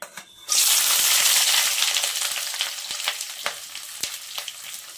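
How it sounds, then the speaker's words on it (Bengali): Chopped onions hit well-heated oil with a sudden loud hiss that stays bright and crackling, easing slightly over a few seconds, with occasional utensil clinks and no talking. "তেলটা ভালোভাবে গরম হয়ে গেছে, এখন আমি কেটে রাখা পেঁয়াজগুলো দিয়ে দিচ্ছি।"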